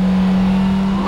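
A Honda Civic Type R drives on the Ebisu circuit, its engine a loud, close, steady drone with a strong sustained hum and a faint rising whine near the end.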